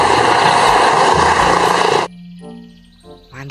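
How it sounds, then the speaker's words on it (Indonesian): Toy helicopter giving off a loud, buzzing electronic rotor effect for about two seconds, then stopping suddenly, leaving faint tonal chimes and a brief electronic jingle. "Wow, iya, ini helikopter."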